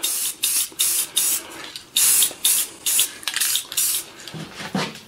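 A Krylon spray paint can lays down a red coat on a tile in about a dozen short, loud, hissing bursts with brief gaps between them.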